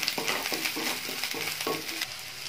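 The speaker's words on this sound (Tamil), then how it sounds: "இப்போ ஸ்லைஸ் பண்ணி வச்ச பச்சை மிளகாய் நம்ம ஆட் பண்ணிக்கலாம் இது நல்லா கோல்டன் ஃப்ரை ஆகுற வரைக்கும் நல்லா கலரிட்டே இருக்கலாம்" Sliced green chillies fry and sizzle in a pan for a chilli chapathi, with a steady crackling hiss and several short stirring scrapes close by.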